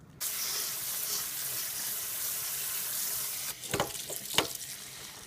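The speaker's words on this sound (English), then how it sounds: "What you want to do is just drain these and rinse it with cold water." Cooked soba noodles are drained in a kitchen sink and rinsed under cold tap water, giving a steady broadband rush of running water with a few louder splashes and clatters near the end.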